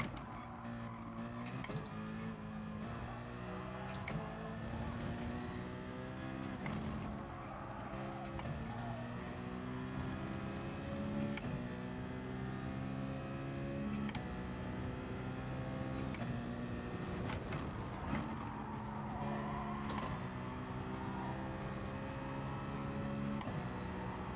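Citroen race car in the GT Sport video game, a continuous engine drone with shifting gear pitches, occasional tyre squeal and sharp clicks, heard alone at moderate level throughout.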